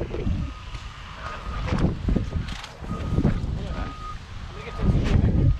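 Wind blowing outdoors, gusting against the microphone in low rumbling bursts while people talk nearby.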